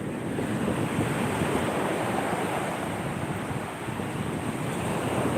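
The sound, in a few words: sea waves at the shore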